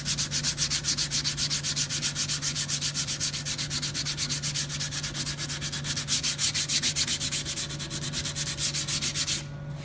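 Steady hand sanding of primer with 80-grit sandpaper, a continuous rhythmic scratchy rubbing with even back-and-forth strokes, close and fairly loud, with no talk.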